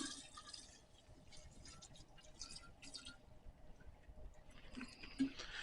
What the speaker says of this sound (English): I'm going to mix this up simply by pouring back and forth